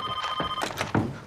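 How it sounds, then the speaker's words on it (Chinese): An office telephone rings nearby in a quick electronic trill that breaks off briefly, with a soft thunk as it ends. "电话接一下"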